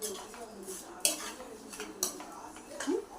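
A spoon stirs and scrapes spices and salt in a pan, with a few sharp metal clinks about a second apart, fairly quiet and close.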